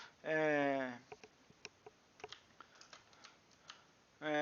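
Keys on a computer keyboard clicked during gameplay, a sparse run of quiet, irregular taps set between two short bursts of a loud tonal sound.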